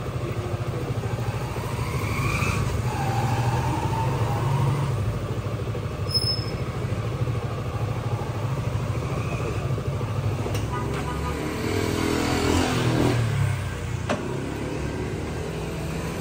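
Honda PCX scooter engine idling while it warms up, a steady close drone with a low rumble that swells briefly and shifts in tone toward the end, no talking heard.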